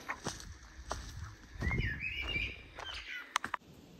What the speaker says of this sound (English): So yeah. Birds.